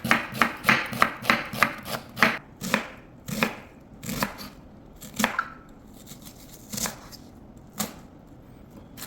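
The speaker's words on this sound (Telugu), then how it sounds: "ఇప్పుడు చిన్న చిన్నగా కట్ చేసుకోవాలి ఆనియన్ని" A knife chops a large onion into small pieces on a board with quick, sharp, rhythmic strikes that slow into sparser single chops, close and crisp, with no talking.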